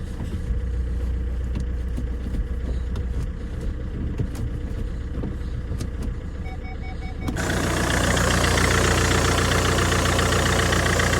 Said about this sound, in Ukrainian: По двигун працює рівненько.